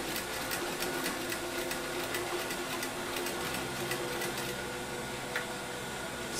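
Sewing machine stitching a bias tape seam for a Hong Kong seam gives a continuous low mechanical whir with faint rhythmic ticking, steady and moderately quiet throughout without pauses.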